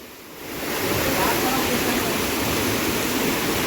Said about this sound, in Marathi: पाण्याचा फोर्स खूप जास्त आहे.